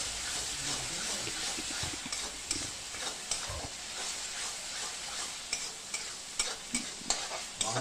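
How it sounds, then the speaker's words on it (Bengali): Turmeric, chilli powder and salt frying and being stirred in a pan for chicken kofta curry, a soft steady sizzle with scraping stir strokes that grow more frequent toward the end, close, no speech. "সবটা মশলা আবার ভালো করে কষিয়ে নেব"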